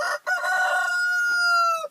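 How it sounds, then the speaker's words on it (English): A rooster crows loudly and close by, one long sustained call, with a little clucking from hens at the start. "So here come a dozen or so hens and a rooster or two."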